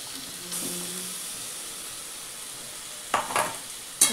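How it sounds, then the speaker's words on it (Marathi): Ground masala paste of tomato, coconut, ginger, garlic and coriander goes into fried onion in a pan, a steady hiss and sizzle followed near the end by a few scraping spoon strokes. "त्याच्यात आता हा वाटलेला मसाला टाकते"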